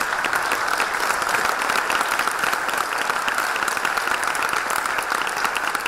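Sustained applause from a summit audience honoring Congresswoman Lucille Roybal-Allard at a health disparities event: dense, crackling clapping from many hands, steady and fairly loud throughout with no talking.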